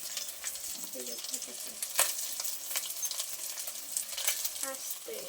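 Rice is stirred and fried with onions and chilies in a pan, giving a soft, continuous sizzle with light spatula scrapes and small metallic clinks. A voice is faintly heard in the background.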